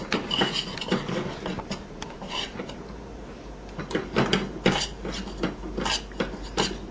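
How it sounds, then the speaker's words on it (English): Utensil scraping and clunking against a pan while flour and butter are stirred into a clumpy roux, repeated close irregular strokes and knocks with a steady low hum beneath. "so I'm stirring it, and as you see, it's becoming really clumpy"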